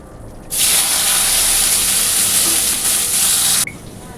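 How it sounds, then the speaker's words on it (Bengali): Chopped onion and capsicum fry in hot oil with fennel seeds in a kadai, making a loud, steady sizzling hiss that starts abruptly, holds for about three seconds, then cuts off. "একদিকে পেঁয়াজ আর ক্যাপসিকাম ভাজা হচ্ছে"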